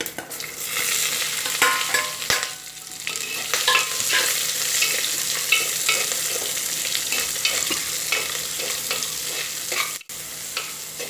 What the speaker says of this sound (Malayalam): അതിലേക്ക് നമ്മുടെ ഉള്ളിയും പച്ചമുളകും കൂടെ ചേർത്തിട്ട് വഴച്ചെടുക്കുക